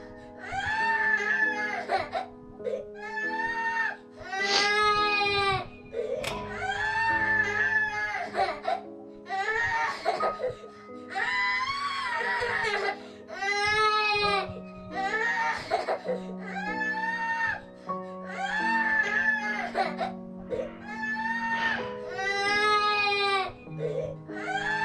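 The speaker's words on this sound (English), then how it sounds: "He's screaming louder." Young child in the video game That Dragon, Cancer cries and screams in repeated loud, sobbing wails with short breaths between bursts, close and continuous, with soft background music.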